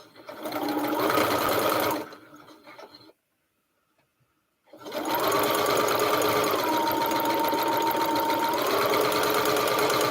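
A sewing machine stitches a quilt block in two bursts of steady, rapid whirring, loud and close, separated by a short silent pause, the second run longer and more even.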